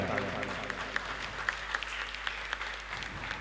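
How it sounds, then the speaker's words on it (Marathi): An audience claps in welcome for guests at a Marathi book launch and theatre event, a faint, patchy round of applause with scattered sharp claps in a reverberant hall. "सर्व प्रेक्षकांना विनंती की ह्या स्वागतासोबत आपलंही सहकार्य पाहिजे, जोरदार टाळ्या"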